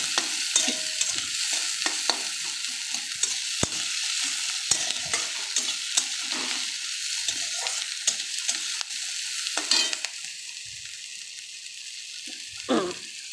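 Onions with green chilli fry in a pan under a bright, hissing sizzle, while a spatula stirs in frequent quick scrapes and taps; the sizzle eases somewhat near the end.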